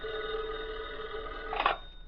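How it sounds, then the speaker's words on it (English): A telephone bell rings in an office scene of an old radio drama, a steady electric ring followed by a brief brighter burst near the end, fairly close and alone. "That evening, Bullock received a phone call at his office."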